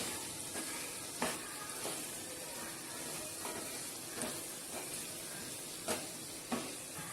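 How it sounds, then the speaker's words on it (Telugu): Vegetables stirred in a pan with turmeric and salt for sambar, an even sizzle with regular soft scraping strokes every second or so, close and steady, no voices. "కొద్దిగా పసుపు, కొద్దిగా సాల్ట్ వేసుకున్నాక ఇలాగా మళ్ళీ ఒకసారి కలబెట్టుకోండి అన్నిటికీ పట్టేటట్లు"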